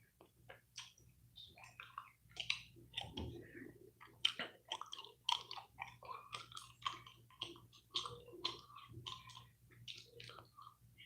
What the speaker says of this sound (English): Am I chewing the gum too much?